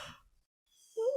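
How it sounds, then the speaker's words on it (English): A breathy exhale gives way to a pause, then a drawn-out voiced yawn rises close to the microphone in a podcast setting. "We're both yawning."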